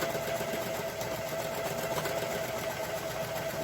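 A sewing machine hums steadily and close, back stitching the seams of a drawstring bag, one continuous run with no talk.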